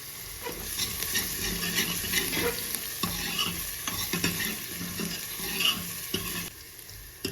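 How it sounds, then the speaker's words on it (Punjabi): Radish sabzi being stirred and roasted over a low gas flame, a steady close sizzle broken by repeated scraping strokes of a spoon against the pan, with no talking. "ਗੈਸ ਸਿਮ ਕਰਕੇ 1-2 ਮਿੰਟ ਦੇ ਲਈ ਆਪਾਂ ਨੂੰ ਭੁੰਨਾਂਗੇ"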